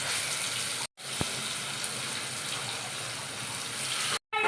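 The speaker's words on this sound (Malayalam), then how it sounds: "നമ്മൾ വെളിച്ചെണ്ണ നന്നായിട്ട് ചൂടായിട്ട് നമുക്ക് മീനിട്ട് കൊടുക്കാം." Aavoli fish fries in hot coconut oil, giving a dense, steady hiss and crackle close by, with two short cut-outs of near silence.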